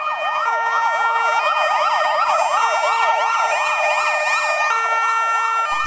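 Ambulance and fire engine sirens wail together during a mall fire drill, loud and close, with overlapping rising and falling tones that cycle rapidly and hold steady throughout with no talking.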